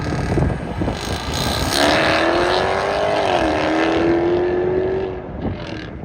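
Engine of a 2023 Jaguar F-Type P450 R-Dynamic AWD coupé with automatic transmission, heard loud from inside the car as it pulls hard through the gears with a steady rising and falling drone, buffeted by wind noise.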